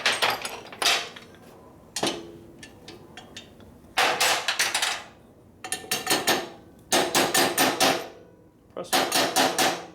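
A hammer strikes metal during the rebuild of a 1972 Harley-Davidson 1000cc Ironhead Sportster. It lands in close, sharp clanging bursts of several rapid blows each, with pauses between, and a brief spoken word comes between the bursts.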